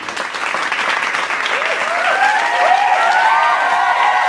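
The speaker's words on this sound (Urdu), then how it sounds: "پھر سے کلاس تالیوں سے گونج اٹھی۔" A classroom of students bursting into applause as a story sound effect, steady dense clapping that holds loud throughout with a faint tonal sweep rising over it.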